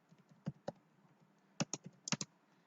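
Quiet typing on a computer keyboard, a few scattered keystrokes followed by a quick cluster of taps, close and alone without talk.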